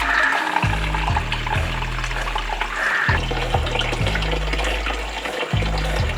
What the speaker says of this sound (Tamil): தண்ணி ஃபில் பண்ணிடுவோம் ஃபர்ஸ்ட்.